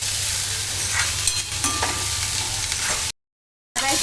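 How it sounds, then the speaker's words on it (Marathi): Onions frying in oil with garlic, curry leaves and bay leaf, making a loud, steady close sizzle with faint stirring scrapes; the sound cuts out briefly near the end, then returns with no talking. "कांदा चांगला लाल होईपर्यंत गरम करायचं आहे, हा भाजायचा आहे."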